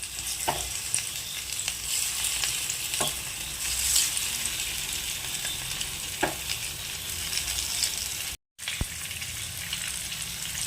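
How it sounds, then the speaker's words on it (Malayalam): Pieces of chicken fry in hot oil with a dense, continuous crackling sizzle, an occasional utensil knock, and a brief cut to silence partway through. "ഇനി നമുക്ക് ബാക്കിയുള്ള ചിക്കനും കൂടെ ഇതേപോലെ ഫ്രൈ ചെയ്തെടുക്കാം"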